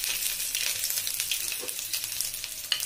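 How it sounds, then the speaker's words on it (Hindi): Ginger sizzling and frying in hot oil in a pan on a gas stove, a steady bright hiss close up with faint stirring, no voices. "अब हम प्याज को फ्राई करते हैं। इसके लिए मैंने गैस पे ऑयल चढ़ा लिया है"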